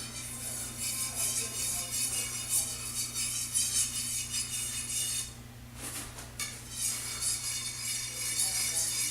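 A knife is honed on an Ancient Ocean whetstone, giving a faint, steady hiss of abrasive scraping that briefly dips partway through, with no voices.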